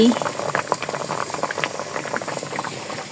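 Cut potatoes simmer in a pot of water in a home kitchen, giving a steady bubbling and rolling boil with small irregular pops, moderately close and continuous for about three seconds.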